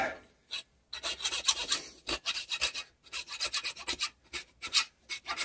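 Quick, uneven bursts of rasping as a file scrapes the corners off a piece of wood, close up, with short pauses between the strokes.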